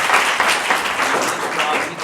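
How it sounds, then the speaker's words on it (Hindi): Audience applause fills a Hindi studio interview with Amarjeet Jaykar, steady broadband clapping close by for about two seconds with a voice faintly mixed in. "तो दे दीजिए ताली।"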